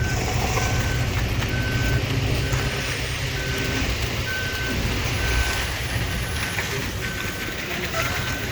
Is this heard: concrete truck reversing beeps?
yes